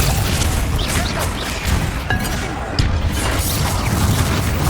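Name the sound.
spell explosions in video game Hogwarts Legacy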